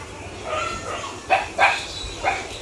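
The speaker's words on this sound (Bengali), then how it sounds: "তারা শুধু ঘেউ ঘেউ করে" Several dogs bark at a house, a few sharp yips and barks at moderate distance, spaced over a couple of seconds against quiet background.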